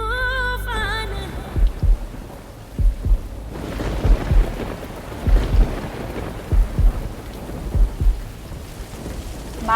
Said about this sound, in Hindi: बाहर बारिश हो रही है, आप भीग जाओगे।